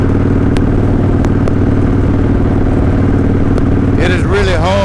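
A motorcycle cruising on a freeway into a headwind, a loud steady engine drone blended with heavy wind buffeting, with a voice briefly coming in near the end.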